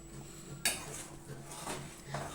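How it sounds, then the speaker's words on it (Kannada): Roasted semolina for upma is stirred in a pan over a low flame, with a sharp metallic scrape of the spoon against the pan and softer gritty swishes after it. "ಲೋ ಫ್ಲೇಮಲ್ಲೇ ಸೇರಿಸ್ಕೊಂಡು ಹಾಗೆಯೇ ನೀಟಾಗಿ ಮಿಕ್ಸ್ ಮಾಡ್ಕೊಳ್ಳೋ ಅಂಥದ್ದು"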